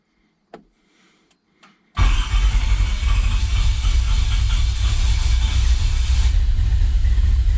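An engine fitted with Holley Sniper fuel injection cranks and fires up after a few faint clicks, settling into a loud, steady running roar with a hissing layer close by.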